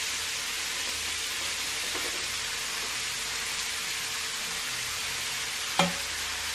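Chopped potatoes go into cabbage frying in a pan, giving a steady sizzle with soft stirring and a sharp clatter near the end.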